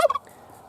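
Turkeys gobble in a short, loud burst from a backyard flock of young birds. The rapid rattling call comes close and alone, fading into quiet almost at once.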